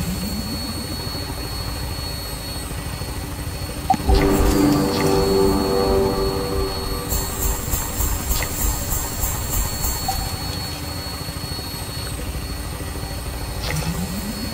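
A Fallout 76 aircraft's engine cranks and spins up from an abrupt onset, swelling into a loud, sustained roar with rising whine and low rumble before steadying, with some metallic clatter mixed in.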